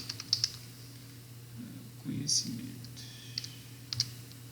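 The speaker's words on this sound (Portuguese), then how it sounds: "Eu cliquei em conhecimento." Mouse clicks on a computer while browsing a Bible sense lexicon in Logos software, several sharp, close clicks spread out over a quiet hum, with faint low murmuring in between.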